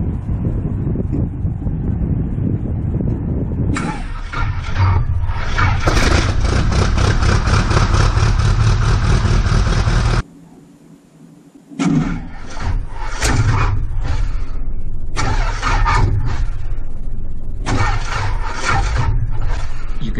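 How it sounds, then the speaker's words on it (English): Light aircraft engine cranking and catching on an Odyssey battery: a steady loud engine roar runs throughout, broken by a brief drop near the middle before the engine note returns, with wind buffeting the microphone. "have some footage, obviously, of starting the aircraft with the Odyssey battery"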